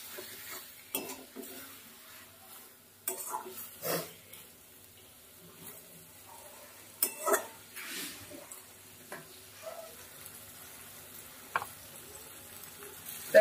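Loitta fish cooks with onions and spices in a pan, giving soft intermittent sizzling and scattered scrapes and taps of a spatula stirring, fairly quiet and close, with no talking.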